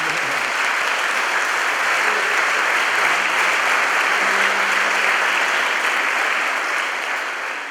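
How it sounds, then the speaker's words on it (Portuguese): A congregation at a 90th birthday celebration in a church applauds warmly, a dense, steady wash of clapping that fills the space and carries on loudly for several seconds before easing slightly at the end. "E a ti aplaudimos com o coração agradecido, Jesus."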